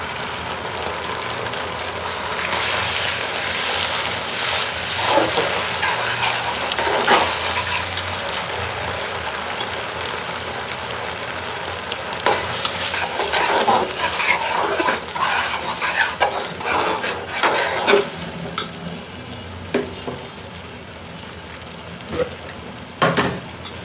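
Onions frying in a pan with ginger paste and spices for biryani, a steady sizzle under repeated scraping and stirring of a metal spoon against the pot, close and loud throughout.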